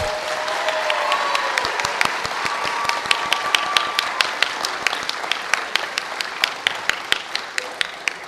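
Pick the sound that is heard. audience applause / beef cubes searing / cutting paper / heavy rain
audience applause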